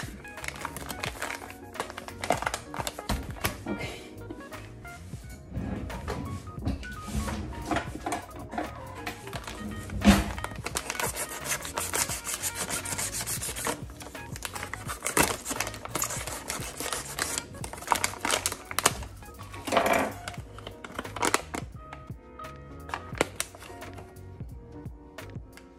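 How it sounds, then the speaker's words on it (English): Scissors snipping and tearing open a sealed bag of Kramoda House Blend coffee, a run of close, sharp clicks, crinkling plastic rustles and taps through the whole stretch, with a few louder crunching bursts. "I have to like get some scissors and"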